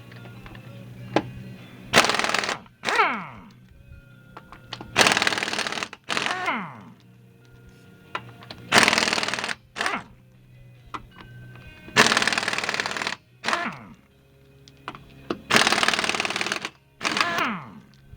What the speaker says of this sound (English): I'm going to use my impact here because it's just easier to do.